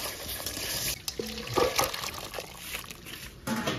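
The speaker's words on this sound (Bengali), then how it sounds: "এবার এটা ভালো করে নাড়াবো, তারপর জল দেবো" Water pours and trickles into a pan of yogurt-based katla fish curry, a steady close liquid splash with a few clinks and brief pauses.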